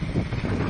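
Wind buffets the microphone outdoors, a steady low rumble of gusts close by that fills the whole short stretch with no talking.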